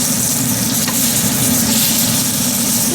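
Pork pieces browning in a pan for a creamy Calvados and apple sauce dish give off a steady, loud, continuous sizzle and fry with no pauses or talk.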